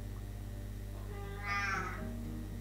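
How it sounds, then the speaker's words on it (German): A single house cat gives one clear meow, fairly close, over a low steady indoor hum with no talking. "Ich habe nämlich jetzt wieder eine Katze."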